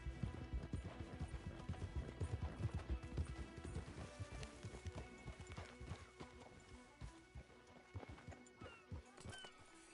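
Horses clip-clopping in Red Dead Redemption 2, a dense run of hoofbeats close by that thins out toward the end, with scattered clatter and no talk.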